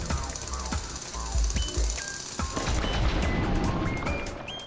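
Drilling through rock in the Manic Miners video game: a steady, coarse grinding rumble with bursts of rattling impacts, underneath electronic game beeps and tones.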